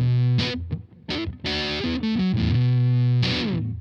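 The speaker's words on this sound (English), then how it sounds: "that kind of fuzz sound" Electric guitar through a Glutnik fuzz pedal on a filthy, hairy setting: sustained distorted notes and short bent phrases with a thick buzzing fuzz tone, played close and alone.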